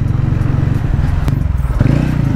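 A TVS Ronin 225 BS6 motorcycle being ridden and shifted down through the gears, its engine a steady close-up rumble with a pulsing exhaust note and a slight change in tone near the end.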